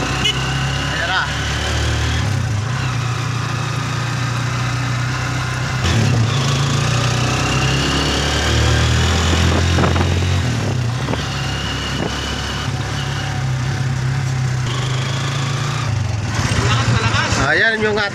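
A motorcycle engine runs steadily and loudly nearby, its throttle revving up and easing back in several swells over a long stretch, with occasional voices.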